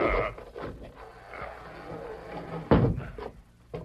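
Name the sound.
trap door in floor being lifted, radio drama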